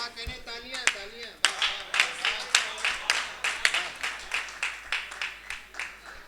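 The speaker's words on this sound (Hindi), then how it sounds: "तालियां तालियां" Audience at a Hindi kavi sammelan poetry recital breaks into rhythmic clapping, sharp individual claps settling into a steady beat, with a voice heard briefly at the start.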